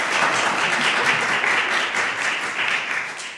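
Lively clapping from a concert audience at a barbershop quartet performance in a small culture chapel, a dense and fairly close patter of many hands, steady throughout with slight swells.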